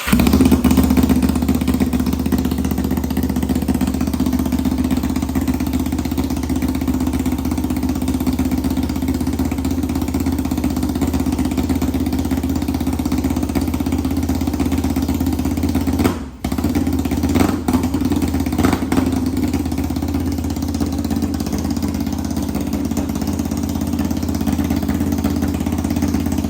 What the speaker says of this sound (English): Alright, so we'll give it one more start for you guys. Show you that it starts right up.